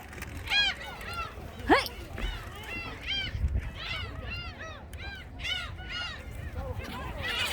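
Seagulls crowding for food at Mokpo Peace Plaza in Korea: a dense flock giving harsh, repeated squawking cries, overlapping and close by, with people talking underneath.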